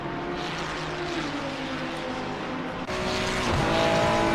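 Ferrari race cars roar around the Paul Ricard circuit in a racing video game, with sustained high engine drone from several cars and a sharp shift in tone midway as another car passes close.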